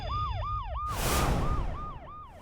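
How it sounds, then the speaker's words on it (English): A police car siren in a children's cartoon, wailing loudly and up close in a repeating rising-and-falling cycle, briefly overlaid by a burst of broadband rushing noise. "Sheriff Labrador got into a police car and arrived on the scene in no time."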